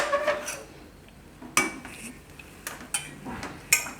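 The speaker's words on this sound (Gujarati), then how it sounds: "આ રીતે બીજા વાસણમાં કાઢી લઉં." Metal utensils scrape and clink against pots as cooked vegetable lasagna filling seasoned with oregano is moved into another pot, giving a few sharp, close knocks and clanks between quieter scraping.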